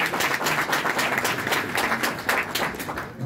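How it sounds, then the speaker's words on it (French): Audience applause at a Guinean diaspora gathering in Dortmund, a steady, dense wash of many hands clapping that continues without a break for a few seconds. "Applaudissez pour Dortmund."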